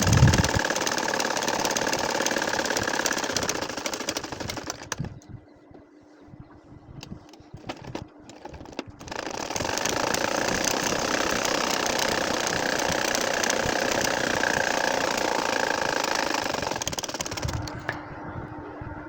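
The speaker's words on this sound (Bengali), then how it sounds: "সেম একইভাবে আমরা পুরা কাঁথাটাই এখন বাঁকা করে করে সেলাই করে নিব" Sewing machine stitching a nakshi kantha baby quilt in curved lines, a steady close motor hum that drops out briefly midway and then resumes, with no talk.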